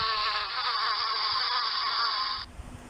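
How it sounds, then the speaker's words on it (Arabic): Bees buzz beside their hive in a played recording, a dense, steady drone that holds at an even loudness for over two seconds and then stops abruptly. "دي كده صوت النحل لما هو ماشي او هو مثلا موجود جنب الخلية."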